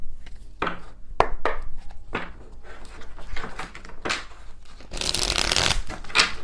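Tarot card deck being shuffled close by, with a run of quick riffling card bursts that build to a dense, loud flurry near the end; no talking.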